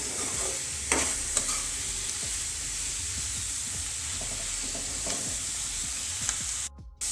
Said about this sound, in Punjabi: ਹੁਣ ਆਪਾਂ ਗੈਸ ਨੂੰ ਫਲੇਮ ਹਾਈ ਹਾਈ ਤੇ ਕਰ ਦਵਾਂਗੇ ਤੇ ਮਸਾਲੇ ਨੂੰ 2-3 ਮਿੰਟ ਵਾਸਤੇ ਪਕਾ ਲਵਾਂਗੇ